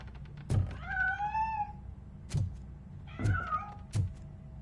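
Cat meows in the RoboCop: Rogue City video game, two drawn-out rising-and-falling mewls separated by a few soft thumps, fairly close and clear with no voices over them.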